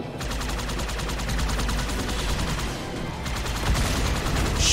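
A Ghost vehicle in Halo 2: Anniversary fires continuously, producing a dense, steady rattle of rapid plasma shots that stays loud and close for the whole stretch.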